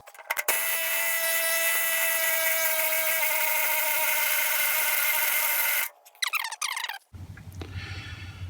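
A power tool whirs steadily at close range for several seconds, working on a bolt underneath a King Kutter brush hog. It then cuts off into a few clanks and rattles and a lower hum.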